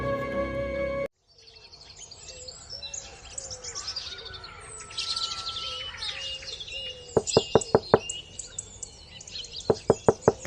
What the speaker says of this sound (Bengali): দরজা ধাক্কার আওয়াজ শুনে